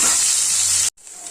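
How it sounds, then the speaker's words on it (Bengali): Pieces of fish fry in hot oil with a loud, bright, continuous sizzle close to the microphone, which breaks off abruptly near the end before a quieter hiss resumes. "মাছগুলো এখন একটু ভেজে নেব"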